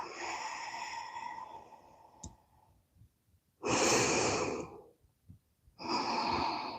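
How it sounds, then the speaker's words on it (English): Slow, deliberate breaths during a stretching session, a long exhale followed by two loud, close airy breaths separated by quiet pauses, with no talk. "breathing in through your nose,"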